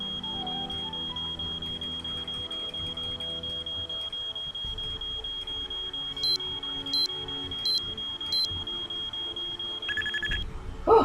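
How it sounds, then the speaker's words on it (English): In the Nancy Drew game Treasure in the Royal Tower, an alarm beeps in four short, evenly spaced bursts over a steady high electronic tone and low ambient hum, with a faint extra chirp near the end. "Oh, that beeping."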